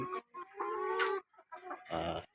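Hens clucking in a battery cage on a farm after more than a month of housing, several close, loud bursts of clucks and squawks with brief pauses between them.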